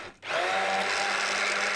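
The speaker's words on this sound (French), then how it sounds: "on va y incorporer le vinaigre de framboise et on va émulsionner tout ça avec le mixeur" A blender whirs steadily as it emulsifies almond cream with raspberry vinegar, a loud, constant motor hum starting after a brief pause and running without talk.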